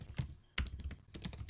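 Fingers type code on a computer keyboard in a quick, uneven run of faint, close clicks and key taps with one sharper press near the middle.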